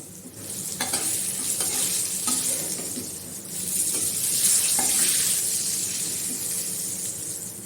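Rohu fish frying in hot oil while being stirred, a steady close sizzle with bright crackle and scraping turns throughout, no voices.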